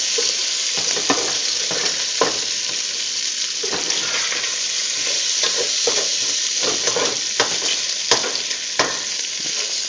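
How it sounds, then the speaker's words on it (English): Bacon frying in a pan on turned-down heat, a continuous close sizzle with small crackles and occasional stirring or scraping taps. "Check on our bacon again here. It's cooking up real good."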